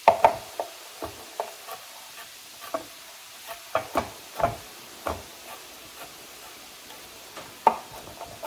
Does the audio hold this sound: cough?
no